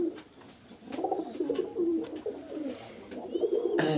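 Kamagar pigeons sitting on eggs give low, soft rolling coos in a continuous murmuring stream, close by, with a few light rustles and clicks around them.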